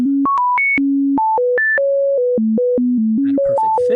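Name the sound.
computer-synthesized tones with an added major third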